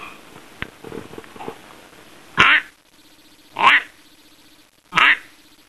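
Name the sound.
duck call imitating a duck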